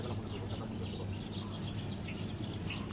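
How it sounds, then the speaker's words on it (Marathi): Birds chirp and sing steadily at dawn on a trek near Mahuli, Asangaon, against a constant low rumble of background noise, with no talking. "आजूबाजूक पक्ष्यांचा आवाज"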